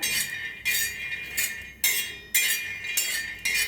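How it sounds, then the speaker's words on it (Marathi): Peanuts dry-roast in a pan while being stirred, giving repeated bursts of bright rattling and clinking, roughly every half second to second, close and clear with no speech. "शेंगदाणे आपण पहिलं भाजून घेऊया मिक्स करून शेंगदाणा भाजून घेऊया"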